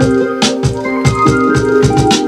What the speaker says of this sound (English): once you actually quantize a track and you have it on,